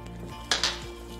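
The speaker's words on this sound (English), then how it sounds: "Now I'm going to start off by mixing this up" A spoon clinks twice against a mug while apple mug cake batter, made without eggs, is stirred with a splash of almond milk. The two quick, close taps sit over a quiet kitchen background.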